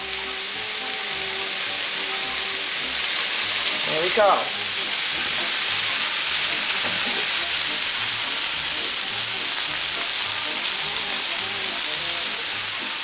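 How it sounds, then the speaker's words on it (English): Broccoli frying in a hot pan gives off a loud, steady sizzle that carries on throughout, with a brief clatter of stirring partway through and a short spoken remark early on. "you're going to be steaming your broccoli instead of pan frying it"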